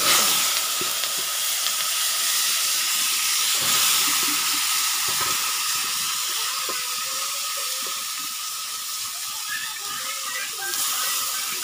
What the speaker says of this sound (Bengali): মরিচটা দিয়ে দিলাম, অনেক গরম হয়ে গেছে তেলটা।